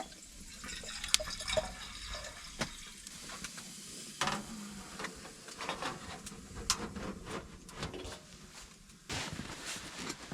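Water pours and trickles at a camp stove while camping in December, with intermittent splashes and drips at close range, fairly faint, alongside scattered handling clatter.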